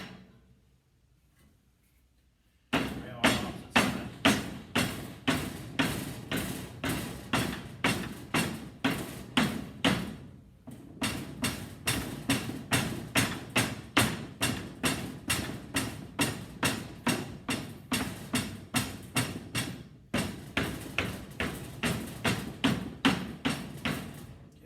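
Steady rhythmic thumping as foundry sand is rammed into a mold, dozens of firm blows in quick regular succession, pausing twice briefly before resuming, close and dry.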